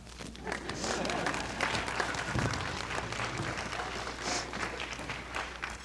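Wedding guests break into sustained applause, a dense wash of many hands clapping at once, steady and fairly loud throughout, with scattered voices mixed in among the crowd.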